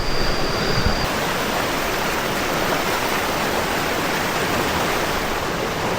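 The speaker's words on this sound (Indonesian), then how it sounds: "ini arusnya semakin deras" A swollen river in the rainy season rushes past with a loud, dense, steady roar of water close by.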